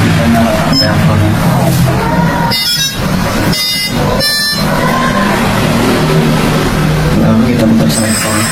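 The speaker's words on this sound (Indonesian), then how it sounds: "Kemudian kita nyalakan pemanas udara. Kita nyalakan reaktornya." A homemade biodiesel reactor and air heater run with a loud, steady motor drone and rumble, broken by a few brief mechanical bursts.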